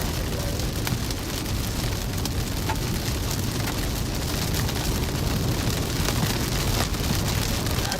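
Dime-size hail falls steadily during a supercell storm in Nebraska, a loud, dense, continuous patter and rattle on surfaces that lasts throughout with no voices.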